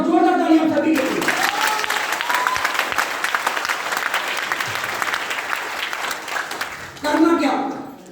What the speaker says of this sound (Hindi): एक बार जोरदार तालियां सभी के लिए।